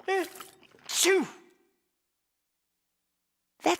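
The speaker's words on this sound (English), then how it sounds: "That's one big sneeze." A cartoon character lets out a big, exaggerated sneeze: a rising voiced wind-up and a loud burst, then silence before another short vocal sound.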